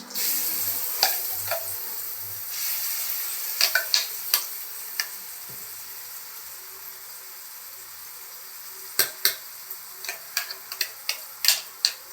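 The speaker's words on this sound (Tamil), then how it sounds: "எண்ணெய் ஊற்றி கடுகு போட்டு கடுகு போட்டு தாளிச்சு" Mustard seeds temper in hot oil for radish chutney, a low sizzle broken by a scatter of sharp pops that grow more frequent toward the end, with no talk.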